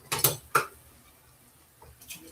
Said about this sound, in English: let's stir this rice.